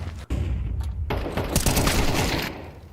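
Gunfire in a competitive online shooter match, a single sharp shot landing a headshot amid a dense burst of loud rapid firing.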